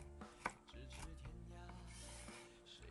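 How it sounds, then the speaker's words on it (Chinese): A knife dices a carrot into small cubes on a cutting board, giving a few quick, close chopping taps under steady talk. "再准备一个胡萝卜，先切成小段，然后切厚片，再切条，最后切成小丁"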